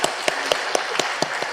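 Steady, evenly spaced hand claps, about four per second, sound from a church congregation in a reverberant room during a Sunday service.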